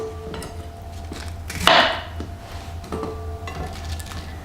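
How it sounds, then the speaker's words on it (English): A knife chopping bok choy on a cutting board: a few soft taps and one sharper, crunchy slice with a brief bright crackle, close and fairly quiet. "Just cut the end of this bakchoy just to make sure that they all look nice"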